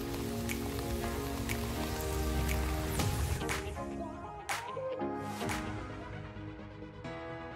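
Rain falling outdoors on surfaces, a dense steady patter with scattered sharper drops and splashes close by throughout, with no speech.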